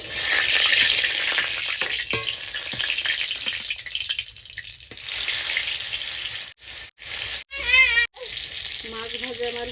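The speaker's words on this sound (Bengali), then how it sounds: "লাল লাল করে মাছটা ভেজে নিয়েছি" Hilsa fish frying in hot salted oil gives a loud, steady sizzle that runs continuously, then breaks off in short gaps near the end as faint voice-like sounds come in.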